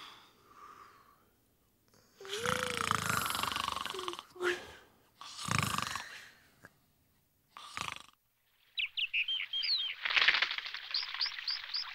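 Loud snoring fills a cartoon night scene with a bear cub, in uneven breathy snorts and rattling wheezes broken by pauses. Shorter chirpy sounds and a few spoken words are mixed in.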